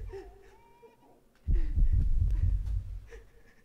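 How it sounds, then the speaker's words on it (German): Heartbeat effect in the video game Max Payne: deep, heavy thumps rising loudly halfway through and throbbing over a low rumble, with faint game tones before. "Ich glaube, unser Herzschlag geht auch gerade schneller."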